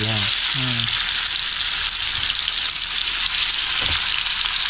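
Snakehead fish sizzles steadily in hot oil in a pan, a dense, even crackle that fills the whole stretch, with a few brief low knocks near the start.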